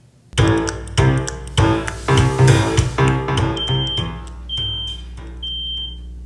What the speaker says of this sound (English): Uh-oh, the smoke alarm is going off.